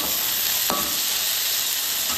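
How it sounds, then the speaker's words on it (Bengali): Bitter gourd and potato frying in a pan, a constant hissing sizzle with a couple of faint scrapes from stirring. "এই যে উচ্ছে দিয়ে আলু দিয়ে একটু ভাজা করছি"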